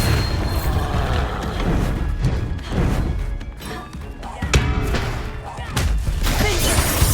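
Repeated Bombarda blasting spells in Hogwarts Legacy produce dense booms and shattering crashes over continuous game noise, with bursts recurring throughout.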